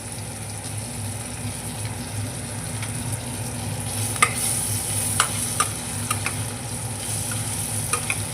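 Red chili added to a pan of dal tadka, a steady bright sizzle of frying with a low hum beneath and a few sharp pops and clicks in the second half.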